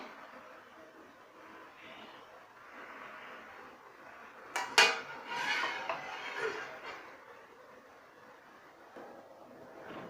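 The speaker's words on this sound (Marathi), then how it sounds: "आता ह्याच्यावरती झाकण मारून ठेवायचं आहे" A lid set down on a pan of simmering egg curry, one sharp metallic clank followed by a short rattle and some softer clatter, otherwise a quiet kitchen background.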